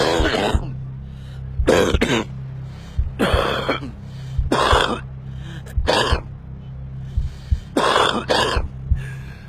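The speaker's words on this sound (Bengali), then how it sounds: "ধূমপায়ীর কাশি জানান দিচ্ছে যে ক্ষতি হচ্ছে আপনার পুরো শরীরেরই।" Harsh, phlegmy smoker's cough repeating in several loud bursts, alone, with short quiet gaps and a low steady hum underneath.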